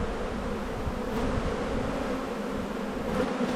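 Honey bees drone steadily at a large triple-box spring colony hive during an inspection, a dense continuous buzz close up and fairly loud with no voices.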